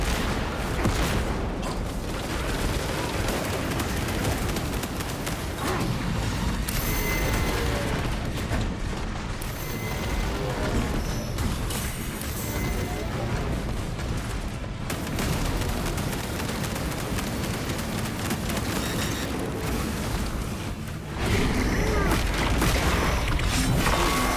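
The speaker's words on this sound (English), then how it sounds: "Throwing frag grenade" A frag grenade explodes in Warhammer Space Marine 2 amid a loud, dense wall of gunfire and booming blasts that barely lets up, with a brief lull before another heavy burst.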